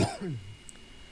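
A single short cough or throat-clearing, close and fairly soft, fading quickly into quiet.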